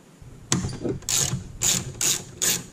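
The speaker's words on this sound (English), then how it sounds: "we're going to go ahead and get an extension and bust that off" A ratchet on an extension cranks a 10 mm bolt on a 1990 Mazda Miata 1.6L, four short bursts of close, crisp ratcheting clicks separated by brief pauses.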